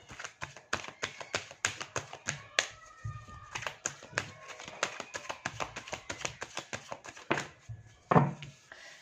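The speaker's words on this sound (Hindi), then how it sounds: "जब तक कि मैं आपके लिए कार्ड शफल कर रही हूँ" Tarot cards are shuffled in a quick run of crisp, uneven taps and riffles, close and fairly quiet, with no talk.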